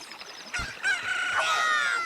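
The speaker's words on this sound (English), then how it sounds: "A chicken hatched from the egg you were incubating." A chicken hatching and crowing in the Nintendo game The Legend of Zelda: Ocarina of Time, a short chime followed by a loud, drawn-out synthesized rooster crow close up.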